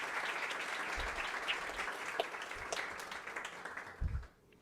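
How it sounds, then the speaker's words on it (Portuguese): An audience applauds the committees that organized an evening event on public-private partnerships for innovation in Balneário Camboriú, with steady clapping throughout that cuts off abruptly near the end. "gostaria de convidá-los a uma salva de palmas para essas comissões que organizam o evento da noite"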